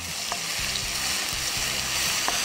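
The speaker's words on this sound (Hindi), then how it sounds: "जो हमने मसाला पीसा था वो इसमें डाल देंगे। तेल में अच्छे से फ्राई कर लेंगे।" Ground masala fries in hot oil for boiled egg bhurji, giving a steady, close sizzle with a few soft stirring scrapes underneath.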